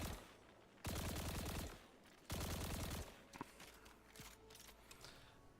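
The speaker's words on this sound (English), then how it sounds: "So I can hip fire at a teammate." Two bursts of rapid hip-fire gunshots in Destiny 2, aimed at a teammate, each lasting under a second and separated by a short pause, followed by scattered softer game effects.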